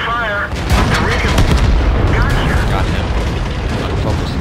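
Tank cannon fire in the World of Tanks video game, heavy booms and rumbling blasts amid continuous loud battle noise, with someone talking over the action.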